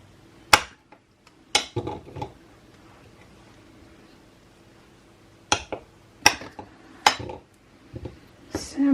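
A knife chopping a block of custom soap into four pieces: a handful of sharp, separate cuts and taps against a board, spaced apart with quiet gaps between them.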